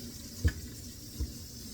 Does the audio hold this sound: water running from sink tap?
yes